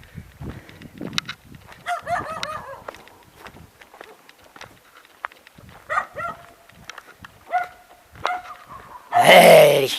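Dogs on a garden trail bark in short bursts, several sharp yips and barks scattered through the scene at moderate distance, with a louder noisy rustle close up at the end.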